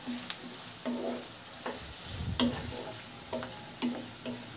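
Chopped onions, green chillies and garam masala frying in a pan for a beef and potato dish, with a low steady sizzle and repeated close taps and scrapes of a spatula stirring.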